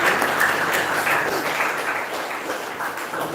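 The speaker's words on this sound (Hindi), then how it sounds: "भावना जी पहुँच चुके हैं, सभी उनका तालियों के साथ" Dense, continuous applause from a gathered group welcoming a guest at an ashram, steady and fairly loud for the whole moment with no talk over it.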